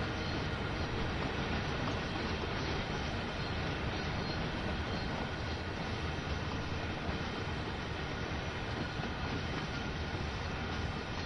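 A CSX freight train rolls past in the Train Sim World video game, a steady dense rumble of wheels and railcars with faint clacking and squeal, continuous and even from start to end.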